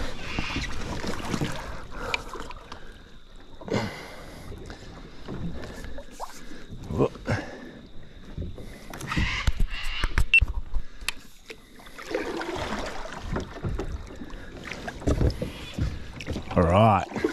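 A fishing kayak is paddled on a river, with irregular splashy strokes and water swishes mixed with wind noise and a voice talking now and then.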